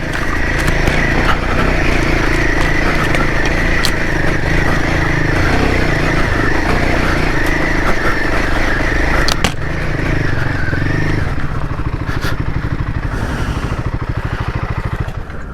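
A Royal Enfield Himalayan 450 motorcycle climbing a loose rocky trail, its engine droning loudly and steadily up close with the rear wheel spinning, under occasional knocks from rocks and wind.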